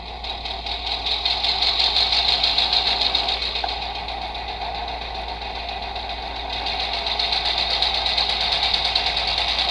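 Engine sound played through a small iPhone speaker fitted in an HO scale model locomotive, a steady droning rumble with a rhythmic chug, loud and continuous, swelling slightly and easing mid-way.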